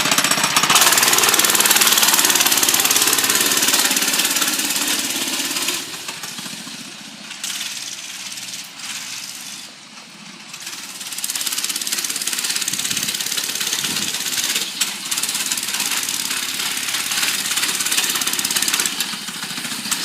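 A Doodle Bug mini bike engine running right after a cold start, a loud, rough, steady small-engine clatter close by that dips briefly midway, then keeps running without talk.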